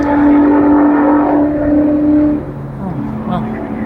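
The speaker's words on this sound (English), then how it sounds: "that was a car that was going really fast" A fast car passes close by on an evening street, a loud sustained engine tone and tire roar that drops sharply in pitch and level as it moves away, with talking layered over it.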